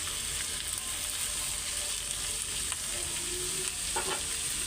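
Bitter gourd frying in a generous amount of oil makes a constant close hiss, broken by light stirring scrapes near the end, with no one talking.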